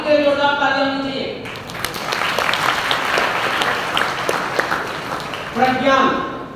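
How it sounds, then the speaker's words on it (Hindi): An audience in a university lecture hall breaks into a burst of applause for a student named Hardik. The clapping lasts several seconds, with a speaker's voice just before and after it. "हार्दिक के जोरदार ताली होनी चाहिए"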